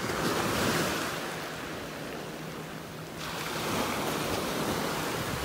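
Ocean waves wash steadily onto a beach in North Naples, Florida, a continuous rushing surf with gusts of wind buffeting the microphone, loud and close throughout with no talking.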